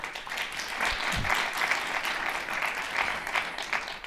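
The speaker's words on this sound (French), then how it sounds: "On peut les applaudir." Audience at a round-table conference on women in the space industry claps for the panelists, a moderately loud, steady patter of many hands with a faint low voice murmur near the start.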